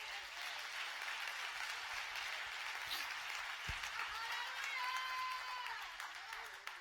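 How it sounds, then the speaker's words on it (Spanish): A church congregation applauds in a sustained, even roar of many hands clapping together, somewhat distant and fairly soft, with a brief thump midway and a faint voice near the end. "Dale ese aplauso a Dios."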